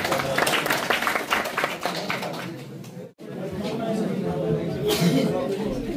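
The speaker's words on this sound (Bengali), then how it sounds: "ওনার জন্য একটু জোরে করতালি হয়ে যাক আবার" Audience clapping and cheering at a community award ceremony fills the hall continuously, dipping to a brief near-silence before swelling again, with crowd chatter mixed in.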